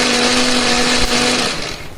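A blender runs steadily, grinding a spice paste of candlenut, turmeric, shallot and garlic with a little water or oil; the loud, even motor whirr holds throughout, then eases slightly near the end.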